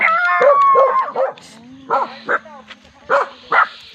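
A dog gives a run of short barks and yips, some whiny and high, spaced out with brief pauses, close by with a voice in the background.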